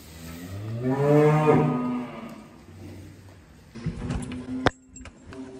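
One long, deep cow moo sounds close by on a farm and swells then fades, followed by shuffling noises and a brief metallic clank.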